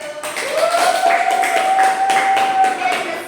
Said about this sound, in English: Please give an applause for group 2.